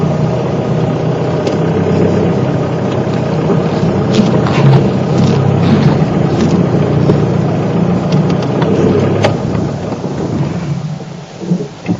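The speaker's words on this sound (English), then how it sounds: "Trying to maneuver the vehicle for you folks" A safari vehicle engine rumbles steadily at close range while maneuvering on a game drive, a loud continuous low drone with light rattles and a few clicks, easing off near the end, no speech.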